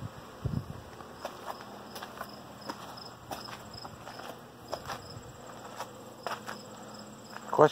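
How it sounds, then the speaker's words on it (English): Bees buzzing around a scrapped Ford Fusion in a junkyard, a faint steady insect drone with scattered small taps and knocks, no talk. "Lots of bees."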